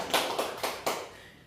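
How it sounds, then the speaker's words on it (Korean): In a Korean church youth worship service, clapping rings out as four distinct, fairly close hand claps in quick succession, then trails off into quiet. "연우 박수 한번 쳐주세요."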